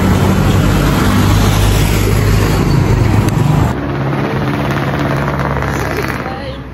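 Inside a moving bus there is a loud, steady rumble of engine and road noise that stays constant throughout. It eases slightly partway through, with no clear speech rising above the din.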